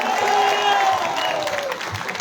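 An outdoor crowd at a Ramlila event applauds for a young poet after his poem, with faint cheering mixed in and a voice carrying over the clapping.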